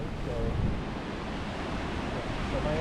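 Ocean surf washing in steadily at Point Dume in Malibu, a continuous broadband roar of waves heard from a short distance on a windy outdoor hike, with some wind rumble on the microphone.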